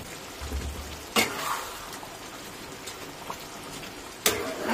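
Pointed gourd (potol) fries in ghee with garam masala, giving a soft steady sizzle with a few sharp spoon scrapes and clatters against the pan.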